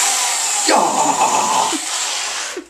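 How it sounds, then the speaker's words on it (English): A drill runs with a steady high whine, its motor note dipping as it bears down into material before easing off. "Let's just drill a hole, because once I drill a hole I'll feel better."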